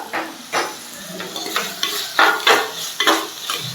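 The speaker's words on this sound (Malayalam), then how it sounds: "ഇനി സവാള ചേർത്തിട്ട് നന്നായിട്ടൊന്ന് വഴറ്റിയെടുക്കാം നമുക്ക് കുറച്ച് ഉപ്പ് കൂടി ഇട്ടിട്ട് ഒന്ന് വഴറ്റി കൊടുക്കാം" Sliced onions with a pinch of salt sautéing in a pan for a fishermen-style boat fish curry, a steady sizzle broken by repeated scraping stirs of a spoon or spatula, close and fairly loud with no talking.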